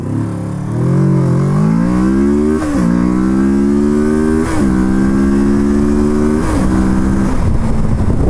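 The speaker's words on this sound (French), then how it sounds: "c'était l'accélération de la Versys" A 2019 Kawasaki Versys 650 LT motorcycle revs hard and loud through several gear changes, engine pitch climbing steadily in each gear with brief dips at the shifts, close and alone with no talk.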